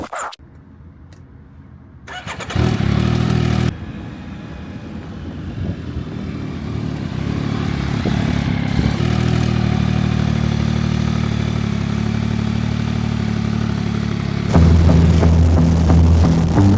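A Yamaha Niken GT three-wheeled motorcycle rides on asphalt, its engine rising from a low idle into a loud, steady mid-pitched drone that holds, then swells briefly louder near the end.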